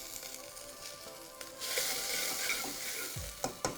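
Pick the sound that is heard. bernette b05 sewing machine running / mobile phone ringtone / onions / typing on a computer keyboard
onions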